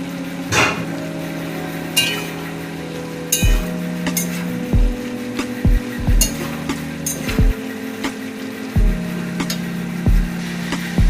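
Fried prawns go into a hot pan for a Bengali mocha chingri dish, giving a steady close sizzle broken by repeated sharp knocks and scrapes of a utensil against the pan as the mixture is stirred; no voices.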